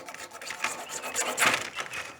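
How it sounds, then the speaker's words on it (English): A knife blade scrapes plastic off a spent lighter in steady rasping strokes, close up and alone, with a harsher, louder scrape in the middle. "It's literally scrape the plastic off."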